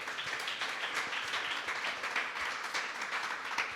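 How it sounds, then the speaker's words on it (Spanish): A church congregation applauding at an evening service, a dense, steady wash of clapping from many hands heard at moderate distance. "¿Le puedes dar otro fuerte aplauso a Dios?"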